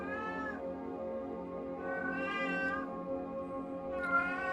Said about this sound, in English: Hope you can listen to my cat.